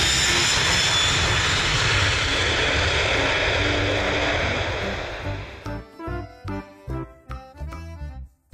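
A loud, steady toy airplane engine roar that cuts into a series of choppy, pulsing bursts before stopping.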